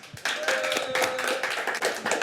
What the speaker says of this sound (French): je vous prie d'applaudir Renan